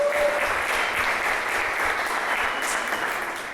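Applause from a church congregation fills the room in a steady wash of clapping that fades slightly toward the end.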